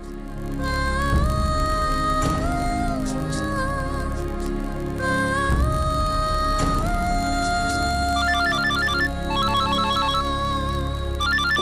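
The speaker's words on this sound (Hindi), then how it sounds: "रघु भैया का फोन है।" A phone ringtone plays loudly as a repeating musical melody with chiming electronic tones, continuing for several seconds in a television drama scene.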